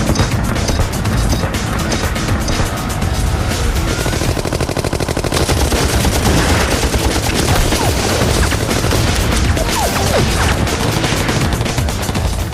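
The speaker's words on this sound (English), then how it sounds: "the U.S. soldier has a lightweight weapon capable of delivering 500 rounds per minute" Sustained burst of lightweight machine-gun fire at about 500 rounds per minute, a dense, loud, continuous rattle of overlapping shots with booming low rumble throughout, no pauses and no voices.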